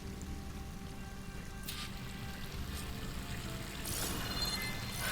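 A waterfall pours in Horizon Forbidden West, a steady, soft rush of water that swells toward the end, with faint ambient tones underneath and no talking.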